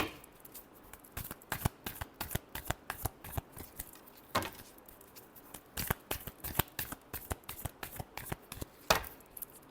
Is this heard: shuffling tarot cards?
yes